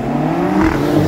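A BMW M240i and a BMW X6M launch side by side in a street race, producing a loud, close, continuous engine roar that holds steady through a brief burst.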